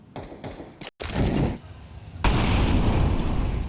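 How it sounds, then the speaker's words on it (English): Grenades going off in a Counter-Strike match, a series of thumping blasts ending in a loud sustained burst of explosion noise with crackling debris, under faint commentary. "So many nades thrown out towards that yard position."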